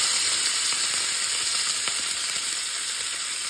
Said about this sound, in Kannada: ಎಣ್ಣೆ ಕಾದಿದೆ ಹುಷಾರಾಗಿ ಹಾಕಬೇಕು ಎಣ್ಣೆ ಸಿಡಿಯುತ್ತೆ